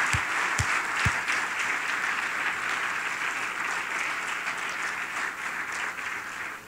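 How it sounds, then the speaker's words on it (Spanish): A church congregation applauding during a Spanish-language Sunday morning service at Iglesia Cristiana Canaan, a steady wash of many hands clapping that holds evenly throughout, opening with a few louder low thumps. "Demos fuerte el aplauso a Él en esta mañana."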